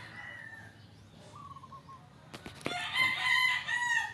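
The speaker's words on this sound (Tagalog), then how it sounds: "manok na naman" A rooster crows once, fairly close and clear, after a quiet stretch with faint background noise.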